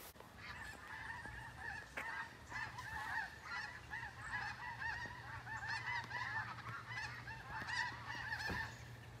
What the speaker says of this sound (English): I thought we'd see the snow geese and the Canada geese living in the field.